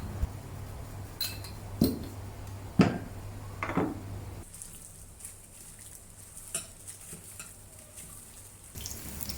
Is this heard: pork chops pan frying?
yes